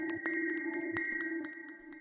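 A formant glitch generator rack emits a faint electronic drone with sustained tonal bands, broken by short clicky glitch bursts at irregular intervals.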